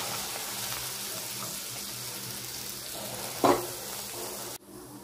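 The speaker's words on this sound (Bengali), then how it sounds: "এখন এই ব্রেডগুলো এইভাবে ভেজে নেব।" Bread slices frying in a pan for bread halwa, a quiet continuous sizzle with a brief louder clatter near the end before the sound drops away.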